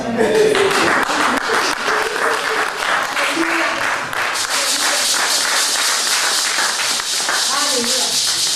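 Loud, sustained applause from a church congregation, with cheering voices mixed in, continuous across the whole stretch.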